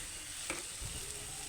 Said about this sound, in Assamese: এইখিনি ভালদৰে মই অলপ সময় লৰাই থাকিম